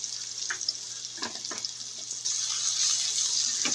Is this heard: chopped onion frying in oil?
yes